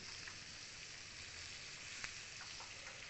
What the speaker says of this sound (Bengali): একটু আদা সব আমি এক এক করে দিয়ে ভালো করে ভেজে নেব।